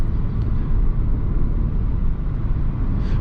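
A 2020 Opel Corsa on the move, heard from inside the cabin as a steady, loud road and engine rumble that holds unchanged for the whole stretch, with no talking.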